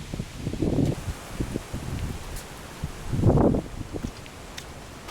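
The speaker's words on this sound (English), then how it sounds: "but it's getting actually pretty windy." Wind gusts by a lake in two rough, rumbling surges buffeting the microphone, with quieter rustling between them and no talking.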